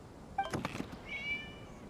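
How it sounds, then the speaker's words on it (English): A cat meows in the video game Genshin Impact, a couple of short, faint mews with a higher, drawn-out meow near the end over quiet background ambience. "It was just a cat."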